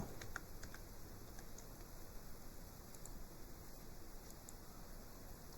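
Soft, rapid typing on a computer keyboard during data entry work, a faint continuous patter of key clicks over low background hiss.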